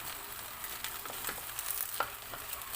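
Semolina dosa batter sizzles on a hot pan in a steady, quiet hiss with faint crackles and pops, heard alone without voices.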